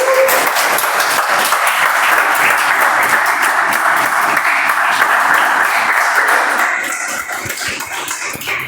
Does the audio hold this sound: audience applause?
yes